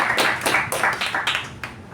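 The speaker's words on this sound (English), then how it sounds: "let's have a round of applause for them" Meeting audience giving a brief round of applause, a burst of close hand claps lasting under two seconds and tapering off at the end, with no talking.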